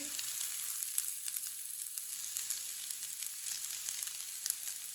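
Boiled chicken pieces fry in a pan for kababs, giving a steady, close, crackling sizzle with faint stirring and no talk.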